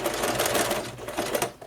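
A sewing machine runs a quick bartack on a fabric face mask, its rapid mechanical needle chatter close and steady for under two seconds before tapering off.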